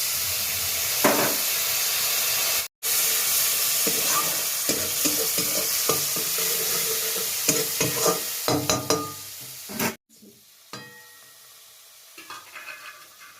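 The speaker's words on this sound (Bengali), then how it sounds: "এই মশলাগুলো ভালো করে ভেজে নিতে হবে আমাকে।" Spices with turmeric fry in a pan for a vegetarian broccoli dish, crackling loudly with rhythmic spatula scrapes and stirs before the sizzle drops to a softer, sparser bubbling.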